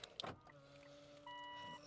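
After locking, a 2026 Mitsubishi Montero GLX sounds its anti-theft buzzer, a faint steady electronic tone that holds for a while after a few soft clicks and thumps.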